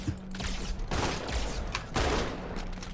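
Shotgun fire in Halo 2, a run of dense, loud blasts with mechanical clatter in two main bursts, close and with no talk over it.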